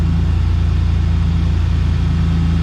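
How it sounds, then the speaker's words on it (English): A Ford Ranger engine running after an engine swap, a loud steady idle with an even low rumble and regular pulsing throughout, no voices. "That, my friends, is a running engine."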